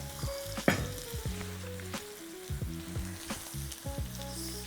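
Ribeye steak sears in a hot pan with a steady, close sizzle, broken by a few scraping stirs and clinks of a utensil; no one speaks.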